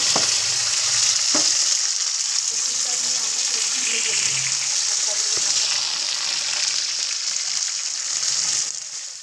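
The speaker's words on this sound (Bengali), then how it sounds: "তারপর আমি এটা তেলের মধ্যে দিয়ে লাল লাল করে ভেজে নেব।" Cauliflower florets frying in hot oil make a steady, loud sizzle with crackle throughout, broken by a few sharp clinks of a utensil against the pan.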